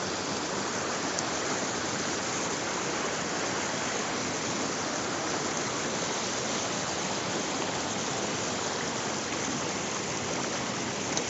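Broad, steady rushing of a nearby river fills the whole stretch, a loud unbroken wash of moving water close at hand with no speech or other sounds breaking through.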